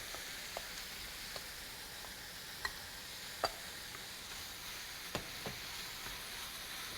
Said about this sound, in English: So now the meat mixture goes right into the pan, and immediately it starts to cook.